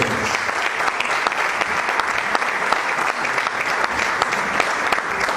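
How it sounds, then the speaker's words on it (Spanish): Steady, dense applause from a church conference audience, loud and sustained throughout with no pauses and no voices standing out. "al pastor y comunicador Carlos Peña, con el aplauso de cada uno de ustedes"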